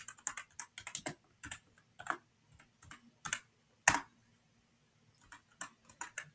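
Rapid bursts of typing on a brand-new computer keyboard, close and fairly quiet, with clusters of key clicks separated by short pauses and one louder keystroke midway.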